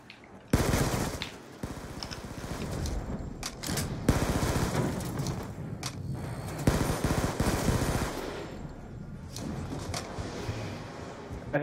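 Sustained automatic gunfire in a Grief mode match on the Cell Block map, dense bursts and rapid rattling shots running almost the whole time, with brief gaps, loud and close.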